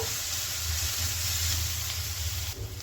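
Ginger garlic paste and onions fry in a pan for a chicken gravy, giving a continuous close sizzling hiss over a low background hum, with no talking.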